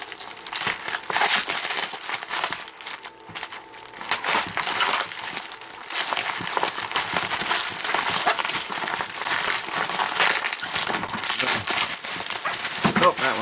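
Server parts being unboxed: tape peeled off and packaging crinkled and torn in continuous close, loud rustling and crackling that runs for the whole stretch, with no voice over it.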